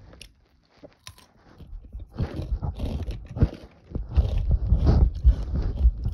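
Close-up biting and chewing of a spicy crunchy snack, with a steady run of loud, crisp crunches and brief pauses between mouthfuls.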